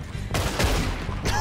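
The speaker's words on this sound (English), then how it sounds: "Fire the gun!" Gunfire in Red Dead Redemption 2, loud overlapping shots cracking in a continuous volley, with a voice faintly mixed in underneath.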